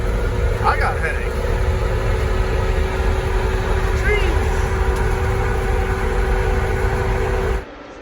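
A Barth motor home engine runs while the vehicle drives, giving a steady loud rumble and road drone that holds evenly for over seven seconds, then drops off abruptly near the end.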